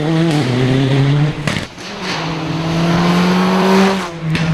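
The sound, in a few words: BA Components Toyota Corolla rally car racing in park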